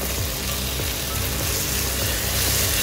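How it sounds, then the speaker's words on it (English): Chopped tomatoes sauté in kurma masala, giving a thick, continuous bubbling sizzle, close and fairly loud, steady across the whole stretch without speech. "Continue sauteing this for another 3 to 4 minutes until the tomatoes are nice and mushy"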